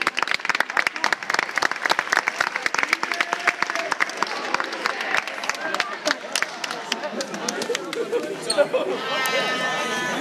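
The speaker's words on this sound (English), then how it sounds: "Everybody clap." A crowd at a wrestling match claps in a fast, loud, uneven burst of sharp hand claps, with shouting voices mixed in and a bleating-like yell near the end.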